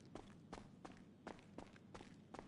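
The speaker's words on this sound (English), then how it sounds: "I heard your footsteps" Footsteps in the video game GTA 5 fall in a quick, even rhythm of about six light, moderately close steps over a faint background with no talking.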